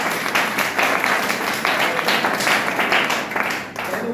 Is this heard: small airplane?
no